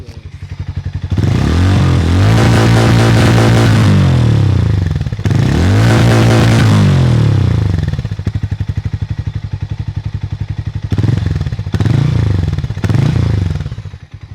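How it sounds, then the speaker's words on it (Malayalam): A Hero Maverick 440 motorcycle's exhaust thumps loud and close at idle, then rises in several revving bursts before settling back to a pulsing idle. "പക്ഷേ എക്സോസ് നോട്ട് നൈസ് തന്നെയാണ്, നമുക്കൊന്ന് കേട്ട് നോക്കാം."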